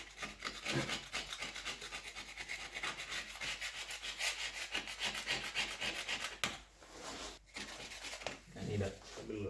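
A hand scraper grinds and rasps against a metal part of a SAJO milling machine under restoration, in rapid close strokes that break off briefly near the end.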